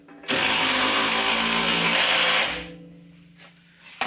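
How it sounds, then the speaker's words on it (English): A power nut driver running backwards to pull a wheel stud through its nut on a Mercedes C300 4Matic front wheel bearing job: a loud, steady whirring motor for about two seconds, then winding down, with a brief clatter at the end. "Put the nut driver backwards because it's pulling that stud through this nut"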